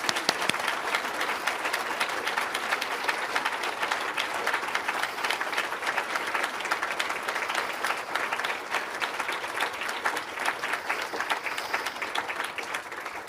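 Conference audience applauding the volunteers at closing remarks, a dense, sustained wash of clapping from many hands that holds at an even level throughout.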